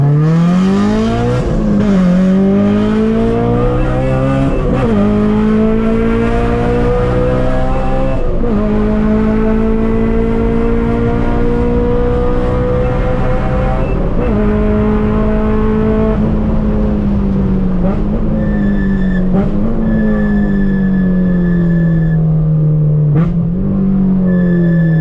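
Honda S2000 AP2 fitted with a Tomei exhaust drives and revs hard, its loud engine note rising and falling through repeated gear changes over the whole stretch, close and continuous with no talk.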